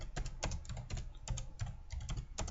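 Rapid keystrokes clatter on a computer keyboard while entering text for a price table, a steady close run of clicks heard alone.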